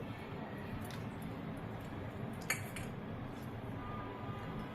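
A spoon clinks faintly against a bowl while saffron milk is stirred into mango amrakhand, with a few soft metallic taps over steady background hiss.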